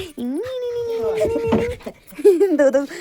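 A dog whimpers and lets out long, wavering howl-like cries at close range, with a pause before a second burst of yelping whines, during a hill-country wedding gathering.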